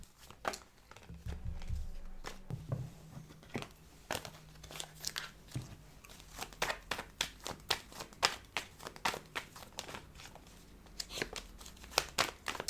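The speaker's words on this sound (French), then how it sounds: "je bats les cartes, elles sont un peu turbulentes aujourd'hui" Tarot cards are shuffled close up in a quick, uneven run of crisp papery flicks and taps, fairly quiet, with a low hum underneath early on and no speech.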